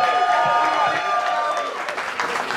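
An audience at a roast battle comedy show applauds and cheers for the comedian Ricky advancing to the next round, steady dense clapping and crowd noise with voices mixed in, fading slightly toward the end.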